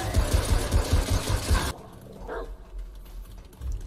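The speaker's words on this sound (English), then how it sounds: "your dog is so fucking noisy" A dog barks loudly in the game Remnant, in a quick run of rhythmic, close barks over a dense, noisy backdrop for the first couple of seconds, then cuts off abruptly, leaving quieter game ambience.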